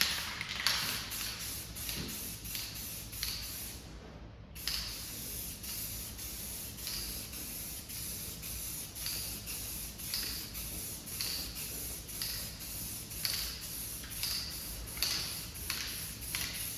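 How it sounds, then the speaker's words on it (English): Krylon Fusion all-in-one matte black spray paint hisses onto an arcade control panel from a Q*bert cabinet restoration, in repeated close bursts with short pauses and one longer break, no talking. "I'm going to use this Krylon Fusion all-in-one paint and primer,"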